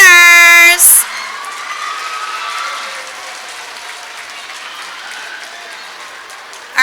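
An indoor crowd at a student of the month award gathering claps loudly and steadily for several seconds after a short amplified tone, and the applause slowly thins out.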